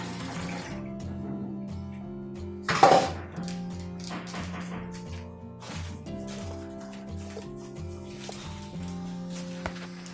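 Glutinous rice being washed in water in a kitchen, soft splashing and a sharp clatter near the start, under a steady droning tone that runs through the whole stretch.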